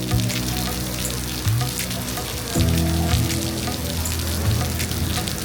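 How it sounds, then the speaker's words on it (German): Rain falls steadily in a small harbour town on the Portuguese coast, a dense, even patter with no breaks and a few faint low tones underneath. "jetzt hat es so richtig zu regnen begonnen"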